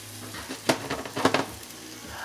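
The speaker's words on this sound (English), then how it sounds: "We're gonna saute these roughly about 2 minutes aside, 2 to 3 minutes" Walnut-crusted sea scallops sauté in a hot pan with a steady sizzle, broken by a few sharp hissing bursts and soft clatter as they shift, with no one talking.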